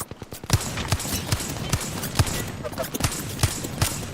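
A Spitfire gun fires in a video game, a sustained burst of loud, punchy shots repeating at a steady rapid rhythm for several seconds.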